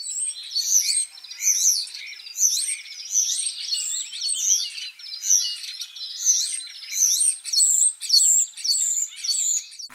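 A starling sings alone in a rapid run of repeated bright, whistling chirps and warbling phrases, closely recorded and fairly loud, with short rhythmic bursts following one another throughout and no talking.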